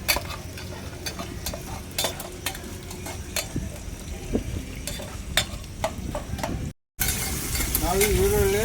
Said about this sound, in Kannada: ನಾವು ಈರುಳ್ಳಿ, ಮೆಣಸಿನ್ಕಾಯಿ, ಕರಿಬೇವಿನ ಸೊಪ್ಪು, ಕಡಲೆ ಬೀಜ, ತಾಲಿಂಪು ಅಷ್ಟೇ ಒಗ್ಗರಣೆ ಇದು ಮಾಡೋದು ಚಿತ್ರಾನ್ನಕ್ಕೆ